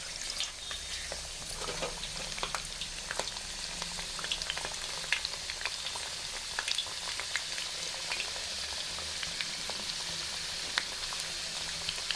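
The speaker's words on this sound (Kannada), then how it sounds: "ನೋಡಿ, ಈ ಥರ ಎಣ್ಣೆಗೆ ಹಾಕ್ಕೊಂಡು ತಕ್ಕೊಂಡಿದ್ದೀನಿ" Spicy karjikai pastries stuffed with potato palya frying in hot oil, a continuous close sizzle scattered with small crackles and pops, steady throughout and with no talking.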